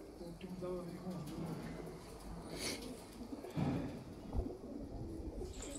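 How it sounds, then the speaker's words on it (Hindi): A female pigeon coos softly in a few low, throaty calls, faint and partly mixed with background noise and stirring. "कबूतरी देखो"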